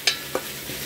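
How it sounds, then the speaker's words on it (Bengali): Masala for bottle gourd and prawn curry being fried and stirred in a pan, with a couple of sharp scraping strokes over a soft sizzle, close and brief. "আমি কিন্তু এখানে লাউ চিংড়ি মশলাটা একটু ভালোভাবে কষিয়ে নিচ্ছি"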